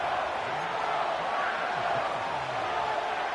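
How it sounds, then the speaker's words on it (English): Stadium crowd noise in a football video game during a Ravens versus Packers matchup, a steady roaring murmur of cheering voices, dense and sustained without breaks. "the crowd getting into it as we come up on a big 3rd down"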